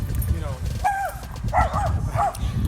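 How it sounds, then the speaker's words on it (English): Several neighborhood dogs bark and yip in short bursts, about three distinct calls at a moderate distance, heard beneath a person talking and steady outdoor background noise. "All these dogs in our neighborhood."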